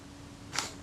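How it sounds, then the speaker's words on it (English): A Kodak Retinette IIA camera's shutter release fires once with a single short, crisp click in a quiet room, close by and fairly soft. "that's the shutter release"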